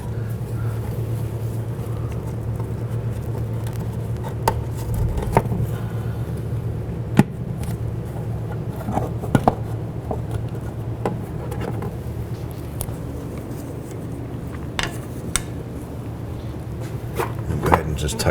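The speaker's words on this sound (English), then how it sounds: "we're going to go ahead and remove these two plastic clips right here, just to gain access behind this plastic cover" Plastic retaining clips being pried off a plastic cover on a 2007-11 Honda Civic, giving a few scattered sharp clicks and light scrapes over a steady low background hum.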